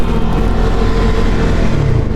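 A Triumph Tracker 400 motorcycle with a 349cc liquid-cooled engine accelerates, its exhaust note droning loud and close with a steady, rising rumble.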